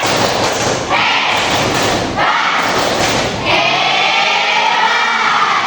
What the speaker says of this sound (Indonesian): Tepuk hebat dulu dong buat Juwita.